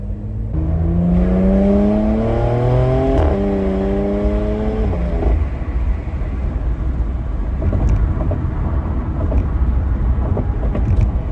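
A powerful Porsche Macan GTS engine with factory exhaust revs up through rising gear pulls, each climbing whine breaking at a shift, then settles into a loud steady rumble close by.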